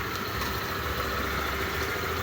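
A Suzuki Samurai engine idles quietly and evenly after a tune-up, a steady low hum with no ticking or variation, heard up close with no talking.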